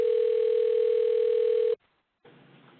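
A steady telephone dial tone holds loud and unbroken for nearly two seconds, then cuts off abruptly into a short silence before a fainter, noisier line hum returns.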